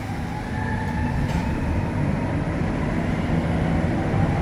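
Montreal Metro subway train running between stations on its rubber-tyred line, a loud continuous rumble and roar inside the car with a faint high whine above it, no voices.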